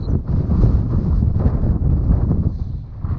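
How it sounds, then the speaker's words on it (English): Heavy wind buffets the microphone with a constant low rumbling roar, loud and close, with no pauses. "It's pretty windy."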